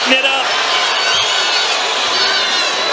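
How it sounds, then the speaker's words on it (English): Dense, loud crowd roar with cheering and whoops at a Terence Crawford vs David Avanesyan boxing fight, a steady arena wash throughout with voices mixed in. "The crowd is eating it up."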